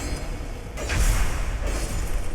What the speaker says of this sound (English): that is the sound of my gauntlets doing a critical hit.